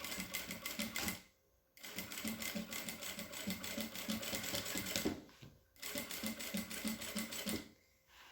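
A sewing machine stitches a synthetic leather book cover, running in steady rapid bursts with two short pauses where stitching stops, close and fairly loud with no talk.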